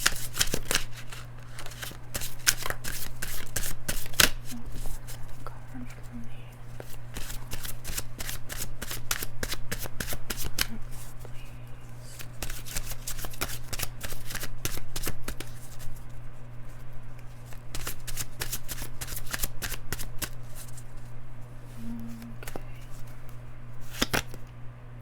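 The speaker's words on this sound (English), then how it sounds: "I'm going to draw one clarifying card for the Emperor." Tarot cards are shuffled by hand in a long, steady run of quick riffling and slapping, close and fairly quiet over a constant low hum, with no talk.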